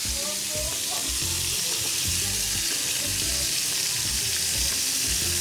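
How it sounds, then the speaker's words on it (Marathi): Onion frying in butter for a shahi butter paneer, a loud, steady sizzle filling the whole stretch with soft stirring and pan sounds underneath. "त्याच्यात टाकते आता कांदा।"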